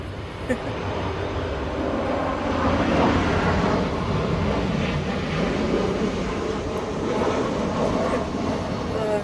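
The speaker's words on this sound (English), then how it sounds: "Another airplane going by." A steady, broad roar of an airplane passing overhead, sustained for several seconds at constant loudness, with a voice faintly beneath it.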